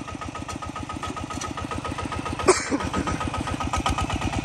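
A machine engine climbing dry ground runs steadily with a rapid, even chugging beat throughout, loud and close, with a brief sharp knock midway and no talk over it.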